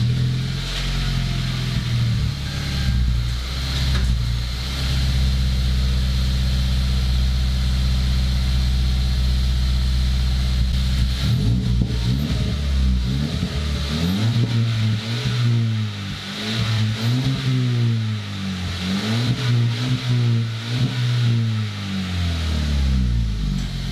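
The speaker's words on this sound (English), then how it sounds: "here's what the Borla exhaust, or just the axle back part, sounds like with the stock piping on" A car fitted with a Borla axle-back exhaust on stock piping idles with a deep, steady rumble, then revs repeatedly in rising and falling bursts through the second half, loud and close with no talking.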